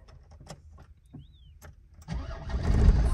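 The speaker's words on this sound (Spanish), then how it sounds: "Vamos a ver si arranca." Car engine cranking and catching after a key turn, starting around two seconds in and rising to a loud, rough running roar, preceded by faint clicks and small handling noises.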